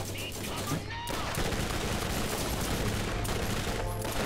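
Rapid SMG gunfire in the video game Borderlands, loud and dense, filling nearly the whole stretch as a steady burst with brief dips, with a voice briefly audible in the mix.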